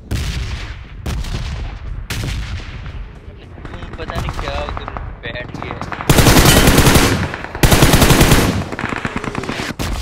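Automatic gunfire in the mobile battle-royale game PUBG Mobile: repeated loud bursts of rapid shots, with the densest, loudest firing in two long volleys near the end and scattered game sounds between.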